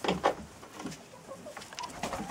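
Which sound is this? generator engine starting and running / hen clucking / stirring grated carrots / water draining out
hen clucking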